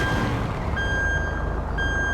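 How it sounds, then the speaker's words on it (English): In GTA 5, the Slamtruck tow truck backs up with its reversing alarm, two clear electronic beeps about a second apart over a low engine rumble. "listen to the sound it makes when it reverses"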